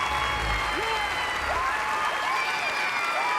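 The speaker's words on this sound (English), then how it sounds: "Was the crowd going nuts? Yes." Dance competition audience cheering and clapping, a thick steady wash of applause with whoops on top, loud and close throughout, with voices talking over it.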